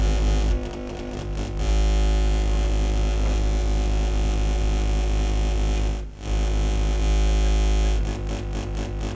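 Sustained, buzzy synthesizer tone from a modular setup, shaped by an envelope-controlled voltage-controlled amplifier, droning loudly and continuously with brief dips and rhythmic gating near the start and end.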